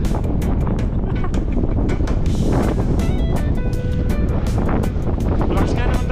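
Strong wind buffets the microphone during a mountain bike ride in Calgary, Alberta, Canada, roaring loudly and steadily with gusty bursts throughout.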